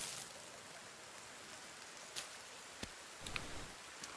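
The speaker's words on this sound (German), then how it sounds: "Ich hoffe, es regnet noch ein bisschen weiter." Rain falling in the survival game The Forest, a soft, faint steady patter with a few scattered louder drops.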